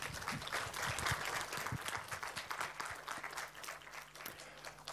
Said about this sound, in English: So everybody, round the applause for the speaker.